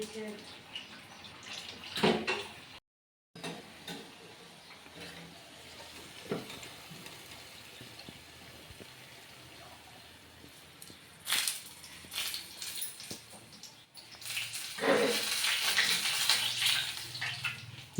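Water runs in a home kitchen, a soft hiss that comes and goes in short bursts, then swells into a steadier, louder rush over the last few seconds, with faint household sounds between.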